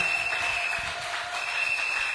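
Sustained applause from a church conference congregation welcoming a pastor, a continuous wash of clapping with a steady ringing tone above it, heard throughout without a break.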